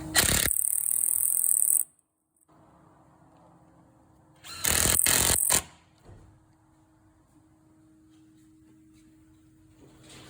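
Cordless power tool tightening fuel pump bolts, two short loud bursts of driving separated by a quiet gap, with faint mechanical hum and clinks in between.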